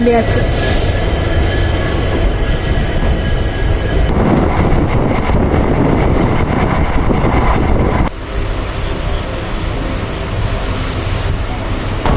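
The Hosapete SF Express passenger train, number 11139, runs along the track, heard from on board as a loud, continuous rumble of wheels and carriages with rattling and faint squeals throughout.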